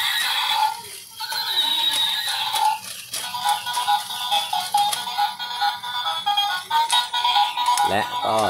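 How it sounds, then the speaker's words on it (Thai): A robot toy horse lets out electronic neighing whinnies, bright warbling tones repeated over a rattling mechanical hum, with a voice speaking over it. "ตัวถัดไปเป็นเจ้าฮอร์สม้านั่นเอง"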